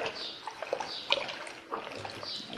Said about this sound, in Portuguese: vou colocar 2 litros de água